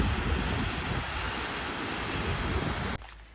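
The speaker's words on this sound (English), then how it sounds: "We're now at Tolma Waterfall and it is absolutely stunning." A waterfall in Litchfield National Park, Northern Territory, Australia: a steady, loud, broadband rush of falling water heard close up, then cutting off abruptly near the end.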